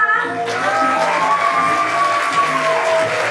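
Loud, sustained cheering and applause from a school audience at a talent show, steady crowd noise with whoops and children's shouts, and a prominent sustained tone rising through the middle.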